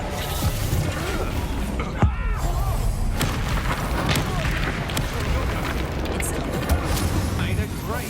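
Dense blasting spell explosions from the Confringo curse during a wizard duel in Hogwarts Legacy, with one sharp boom standing out among continuous rumbling combat effects, crackles and clashing magic, voices shouting over the chaos.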